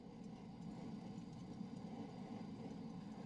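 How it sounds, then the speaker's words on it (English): F-14 jet engine cranking in Microsoft Flight Simulator, a steady low rumbling whir holding constant and even throughout, with no distinct spool-up peaks. "Get the engine crank going here."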